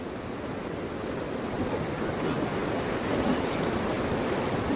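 Floodwater rushes through a dam on a swollen river, a steady, broad roaring wash that swells slightly toward the end, close and loud with no voices.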